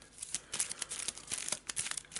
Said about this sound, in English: we're going to shuffle everything back into the deck and we're going to draw again.